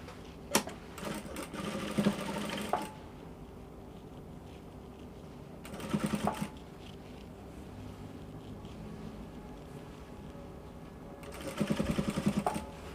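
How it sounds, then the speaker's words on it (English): A sewing machine stitches pleats on a bishop collar in three short, close bursts separated by quiet pauses. "So I'll take this one to the sewing machine now, and I'll go and pleat it."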